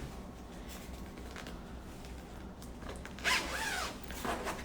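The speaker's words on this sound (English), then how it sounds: "And then we can take out the zipper, or we can unzip it rather." A zipper on a Guava Lotus travel crib carry bag is pulled open, a steady soft rasping run of teeth that ends in a slightly louder, quicker burst near the close, heard up close with no talking.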